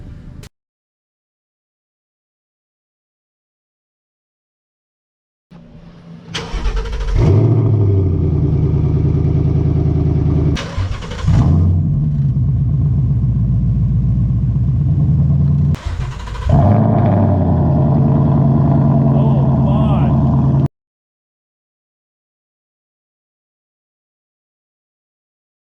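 Ford Mustang GT with resonator delete, mid pipe and sport-back exhaust, idling low then revved in three long loud pulls with deep rumbling roar, close and alone.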